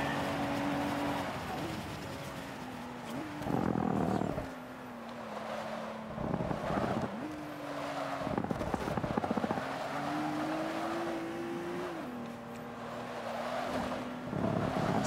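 A Rolls-Royce Wraith in Forza Motorsport 5 accelerates hard: a steady engine tone climbs in pitch, drops at each gear change and climbs again, loud and continuous with some wind rush.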